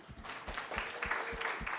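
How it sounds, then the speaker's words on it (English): Audience at an in-person civic tech meetup applauding a show of hands, a steady smattering of claps with no one talking over it. "everyone else clap for them"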